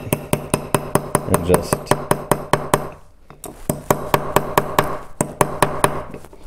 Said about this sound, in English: I'm gonna use this fancy little hammer I got with the kit